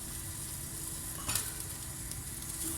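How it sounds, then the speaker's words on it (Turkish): A steady bubbling sizzle of sugar syrup for revani boiling in a pot, with a brief louder burst midway; no voices. "Burada güzelce şerbetim kaynıyor."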